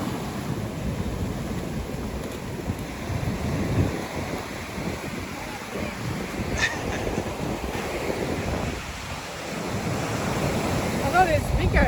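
Waves break and wash onto a fishing beach with a steady low rumble, roughened by wind buffeting the microphone, and a few faint distant sounds come through.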